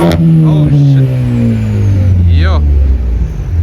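A loud, close modified car engine with an aftermarket exhaust drones with a deep throaty tone, its pitch sliding steadily downward as the lowered car passes by.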